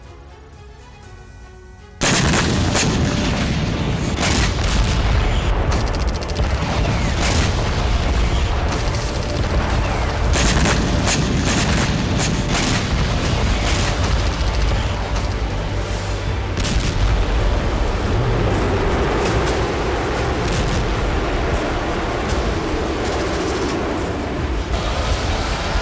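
Battlefield explosions and artillery blasts in wartime combat crash nearly nonstop after a quiet opening, loud heavy booms mixed with rapid gunfire bursts and no talking over them.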